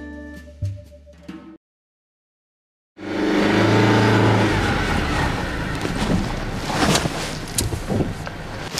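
A Chinese-made car driving out on a Beijing outskirts jaunt, engine and road noise rising suddenly after a short silence and holding loud and close, preceded by a brief burst of other sound.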